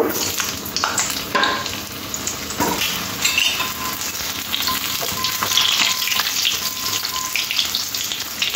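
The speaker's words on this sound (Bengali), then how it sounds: "তেলটা গরম হয়ে গেলে পটলগুলো দিয়ে দেবো। দিয়ে পটলগুলো একটু হালকা লাল লাল করে ভেজে নেব।" Pointed gourd (potol) frying in hot oil in a wok, a steady loud sizzle throughout with occasional stirring scrapes and clatters, close and continuous with no talking.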